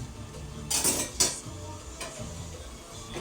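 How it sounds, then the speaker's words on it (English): Metal utensil scraping and clinking against a thin paella pan while stirring rice, with two sharper clattering scrapes near the start and softer stirring continuing after, no voice. "So you want to try to keep stirring your rice so it doesn't burn"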